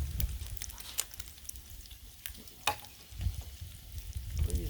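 Bacon and eggs frying on a Blackstone griddle, a soft steady sizzle and crackle with sharp pops and spits scattered throughout, heard close and alone without talk.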